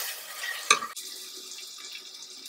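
Tomato sautéing in hot oil for mutton biryani gives a steady close hiss, with a sharp clatter of stirring near the start before the sizzle settles.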